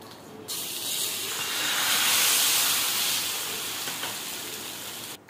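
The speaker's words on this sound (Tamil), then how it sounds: "தோசைக்கல் சூடாயிட்டே இருக்குது. இன்னொரு தோசை ஊற்றிக்கலாம்." Rava dosa batter sizzles and hisses steadily in ghee on a hot dosa griddle, a broad frying crackle that swells in the middle and stays close and loud throughout.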